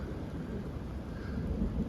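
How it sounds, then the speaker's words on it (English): Thunder rumbles low and steady over falling rain at Sonora Pass in California, a continuous wash of rainfall under a dull, rolling storm with no talk. "Here's the thunder."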